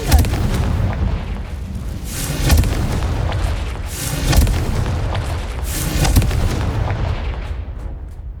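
Repeated fiery blast spells erupting in the Hogwarts Legacy video game, four heavy booming explosions spaced about two seconds apart over a continuous crackling roar, loud and close.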